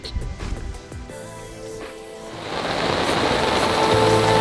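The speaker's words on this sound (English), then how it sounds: "And then the rains came." Rain sweeps in with a low-pressure front over a sailing boat at sea, starting as scattered knocks and building into a dense, loud hiss of downpour that grows steadily heavier.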